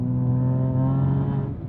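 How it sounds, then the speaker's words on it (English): A BMW X3M's S58 engine drones through a resonated equal-length exhaust, a loud, steady, deep tone held for under two seconds and heard close with no other sounds. "I think it's actually quite an enjoyable noise because it adds to the depth of this exhaust."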